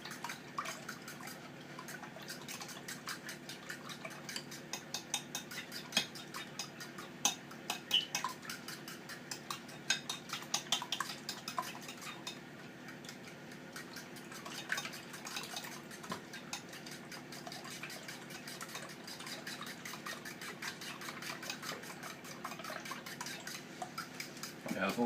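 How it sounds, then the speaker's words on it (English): Something is being whisked in a bowl during breakfast cooking for a family. Clinking and tapping strokes repeat rapidly and steadily over about 25 seconds, fairly quiet, with light kitchen clatter throughout and no talking. "Just give it a good whisk."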